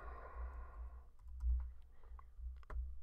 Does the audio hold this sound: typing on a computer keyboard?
yes